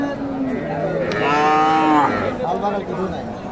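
At a bustling village cattle market, a young cow gives one clear, loud moo lasting close to a second, rising out of a steady wash of crowd noise that carries on afterward.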